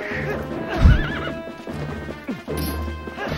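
A horse in The Legend of Zelda: Twilight Princess lets out a loud whinny, with clip-clop hooves and a sharp struck impact nearby; game music and ambience continue underneath.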